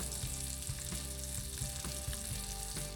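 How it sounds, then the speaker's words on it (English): Onions sizzle steadily in a hot pan, a constant crackling hiss with a few soft clinks from stirring. "So these onions are sauteing up."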